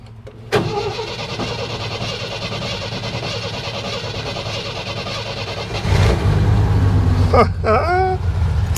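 A Jeep CJ5 engine cranks and catches, then settles into a steady, loud high idle with a brief rev near the end; a voice speaks briefly.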